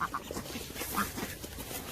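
A female duck gives a few quick, soft quacks scattered through a steady background hiss, fairly close but not loud.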